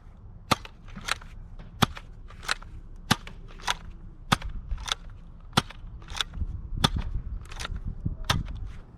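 A Nerf Fortnite 6-SH blaster fires repeatedly downrange, each shot a sharp snapping crack at a steady pace of roughly one per second, about a dozen in all, with faint rattling handling noise between them.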